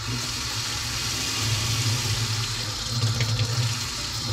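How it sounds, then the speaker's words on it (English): Hot and cold water run together from a tap in a steady, full rush that stays close and even throughout, with a low rumble under the flow. "there is always hot and cold water running from the tap at the same time"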